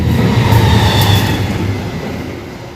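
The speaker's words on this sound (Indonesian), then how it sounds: "Ada kereta lewat karena rumah saya di dekat rel kereta." A train passes close to a house beside the railway tracks, a loud steady rumble with low wheel drone that fades slightly toward the end, heard alone without talk.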